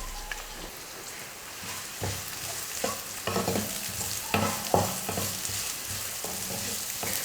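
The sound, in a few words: chopped shallots and green chili sautéing in oil in kadai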